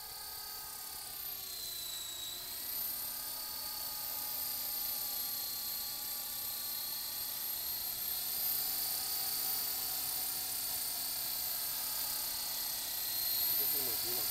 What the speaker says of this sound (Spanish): No, era el helicóptero.